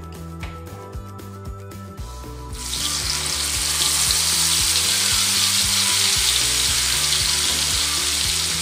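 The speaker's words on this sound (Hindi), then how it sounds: "मसाले को अच्छी तरह से भूनेंगे जब तक मसाला तेल ना छोड़ दे तब तक।" Ground spices with turmeric and chili powder frying in hot oil in a pan, a loud, steady close sizzle that swells after a couple of seconds, over a low rhythmic background hum.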